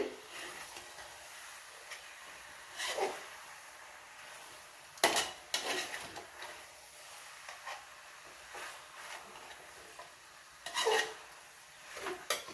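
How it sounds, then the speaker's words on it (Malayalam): Beef is stirred in a pot for biryani, heard as quiet intermittent scraping and rubbing bursts spread over several seconds, fairly faint and close, with no talk. "ഒന്ന് ഇളക്കി കൊടുക്കുക കേട്ടോ നന്നായിട്ടൊന്ന് യോജിപ്പിച്ച് കൊടുത്തിട്ട്"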